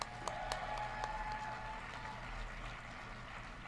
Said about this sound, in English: I think Rachel deserves one more round of applause.